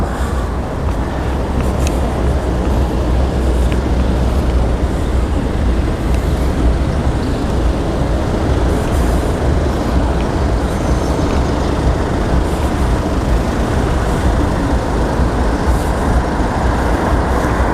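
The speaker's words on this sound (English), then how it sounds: "the traffic comes down this hill here and it goes down there" Steady, dense city traffic roars near Christchurch Cathedral in Dublin, with buses, cars and trucks rumbling past close by in a continuous loud wash of engine and tyre noise.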